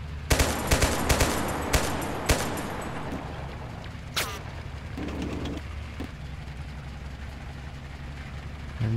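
Rapid bursts of gunfire from the video game Total Conflict: Resistance, with several sharp volleys crowding the first few seconds and a few isolated shots later over a steady low rumble.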